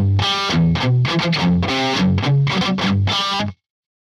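Distorted electric guitar riff with string skipping, played tight and loud with quick choppy notes and short gaps, ending abruptly into silence.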